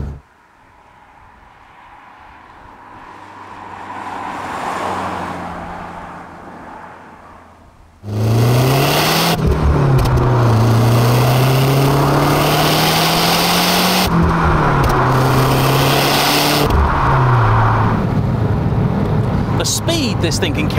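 A Lancia Delta Integrale Evo II starts with quiet road and engine rumble, then its engine bursts loud and close, revving hard through rising gear pulls with sharp drops between shifts while the car is driven.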